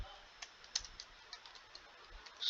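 Typing on a computer keyboard, a quiet, irregular run of soft key clicks close by, with a slightly louder burst at the end.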